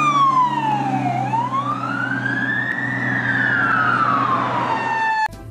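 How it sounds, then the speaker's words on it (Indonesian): A fire truck siren wails steadily, sweeping down and slowly back up in pitch, loud and continuous over a rumbling engine. "Di sini ada mobil pemadam kebakaran."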